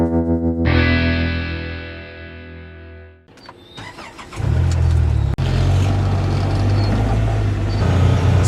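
A Ranger utility vehicle on a farm during corn harvest idles with a distorted hum, goes quiet, then its engine starts with a clatter and settles into a loud, steady drone as it drives off.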